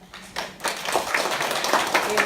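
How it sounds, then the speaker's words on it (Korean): An audience at a seminar on urban agriculture breaks into warm applause to welcome a guest, a dense burst of many hands clapping that builds and holds, with faint voices underneath. "뜨거운 박수로 환영해 주시면 좋겠습니다"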